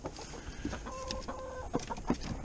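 Chickens clucking in a homestead coop during winter chores, with several short, close clucks and a couple of brief sustained calls scattered across a couple of seconds.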